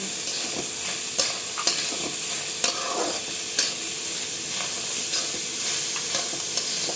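Onion roasting with salt in a pan for an onion chutney, with a steady sizzle and sharp spatula scrapes at regular intervals, close and fairly loud.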